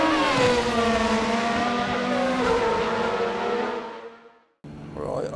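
A 1986 Formula 1 racing car engine in a racing video game roars at high revs, a steady harmonic whine held loud and close before cutting out abruptly, then returning briefly.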